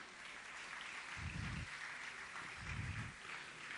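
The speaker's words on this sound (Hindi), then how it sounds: "आप लोग तालियों का क्रम चालू रखें।" Faint, continuous applause from an assembled audience at a religious discourse gathering, heard at a distance with a couple of low thumps partway through.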